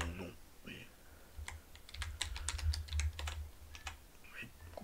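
Rapid bursts of typing on a computer keyboard, clustered keystrokes in quick succession, quiet and close, with brief bits of speech before and after.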